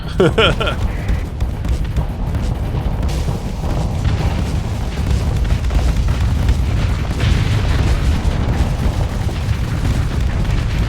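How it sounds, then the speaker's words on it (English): Spaceship weapons firing and exploding in the Starsector video game, a steady dense rumble of booms and bursts that runs throughout, with someone talking over the action. "I'm not aiming, I'm just shooting."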